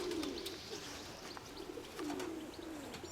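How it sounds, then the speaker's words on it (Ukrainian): Low, soft pigeon cooing in a few repeated phrases, with faint chirps and rustling in the background; no talking. "Ні, голуби всі, ті, що я бачив"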